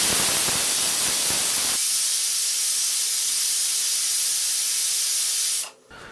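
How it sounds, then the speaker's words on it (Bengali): A pressure cooker on a stovetop releases a loud, continuous rush of hissing steam that holds steady for several seconds, then cuts off abruptly near the end, with no talking. "প্রেসার কুকারে টোটাল 5টা সিটি দেওয়ার পরে আমি ফিরলাম।"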